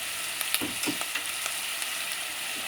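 Tomatoes and onions frying for a diet soup, a soft continuous sizzle with a few light stirring scrapes.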